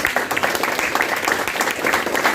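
An audience claps at a felicitation ceremony for meritorious students and model teachers at a Pune district junior college, a dense, steady patter of many hands that fills the whole moment with a faint voice underneath.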